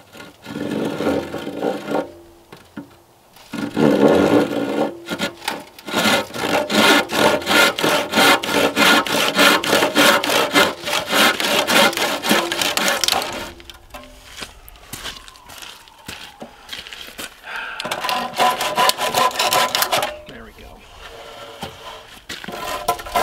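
Hand saw cutting through a wooden beam, rapid rhythmic back-and-forth rasping strokes in long loud bursts, pausing briefly between runs, close and clear with no talk.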